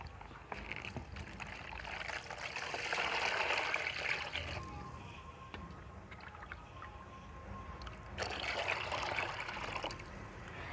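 Water sloshed and stirred in a tub as mashed medicine is mixed in for treating desi chickens, with steady splashing swells and trickling that rise and fall, close by and moderately loud.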